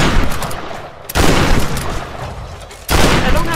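Shotgun fire in Tomb Raider: two loud, booming blasts well apart, each a sudden hard hit that trails off into a rough, fading roar, over steady game noise.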